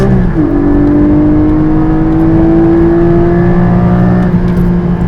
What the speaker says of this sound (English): Hit those revs!